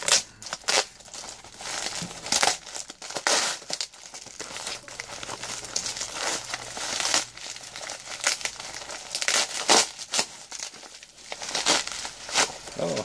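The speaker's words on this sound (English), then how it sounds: "No knife this time. Scissors, remember?" Plastic doll packaging crinkles and crackles up close as scissors snip through it in irregular bursts, with occasional tearing.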